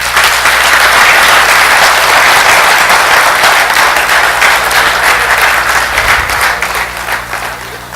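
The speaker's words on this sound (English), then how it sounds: "Can you all clap?" An audience claps together in a large room, loud dense applause that holds steady and then tapers off toward the end.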